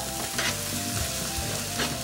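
Red bell pepper and julienned carrots sizzle steadily in a hot pan, a dense, continuous frying hiss with faint stirring scrapes, close up and without voices.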